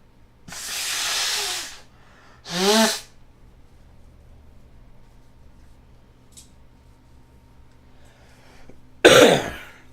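Several close, forceful nose blows, two quick bursts near the start and a harsher one after a quiet pause, with no talking.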